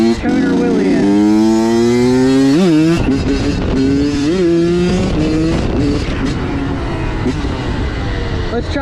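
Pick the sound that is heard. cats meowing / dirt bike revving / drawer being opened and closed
dirt bike revving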